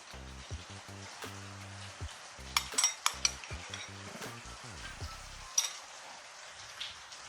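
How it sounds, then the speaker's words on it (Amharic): Garlic sizzles and fries in a pan for Ethiopian doro wot, with a steady crackle, stirring and sharp clinks of a utensil against the pan. "አሁን ነጭ ሽንኩርት ጨምራለሁ።"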